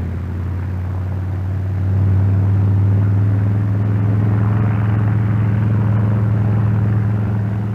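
Brewster SB2A Buccaneer piston aircraft engine roaring steadily through a takeoff run, a deep sustained drone that swells slightly after two seconds and holds loud and close with no talking.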